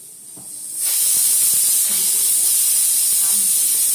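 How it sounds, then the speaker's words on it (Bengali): Steady loud hiss of steam venting from a pressure cooker with mangoes boiling inside, starting abruptly about a second in after a quiet kitchen moment and continuing unbroken to the end. "আম সেদ্ধ হচ্ছে"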